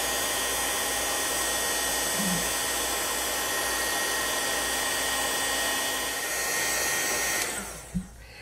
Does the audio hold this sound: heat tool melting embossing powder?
yes